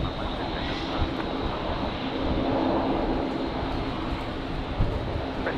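Broadband engine roar of an airplane taking off from runway 19 left at a windy Brisbane Airport, sustained and fairly distant, with wind noise and a faint radio voice underneath.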